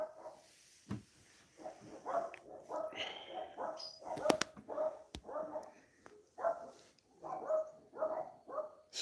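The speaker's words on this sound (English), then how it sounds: "Shut up, barking dogs." Several dogs bark repeatedly outdoors at moderate distance, in irregular bursts of short barks and yips with a few sharp clicks, and no clear speech.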